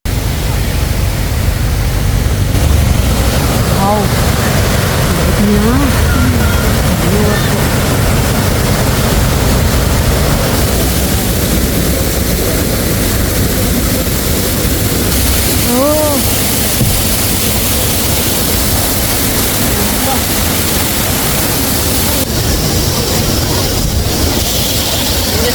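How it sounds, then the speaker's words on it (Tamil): Wadi Darbat waterfall near Salalah, Oman, in the monsoon season: a steady, broadband roar of falling water fills the whole span at close range, with a few faint voices and whistles breaking through now and then. "இந்த சைடு வாட்டர் ஃபால்ஸ் இருக்குது"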